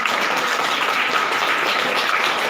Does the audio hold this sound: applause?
yes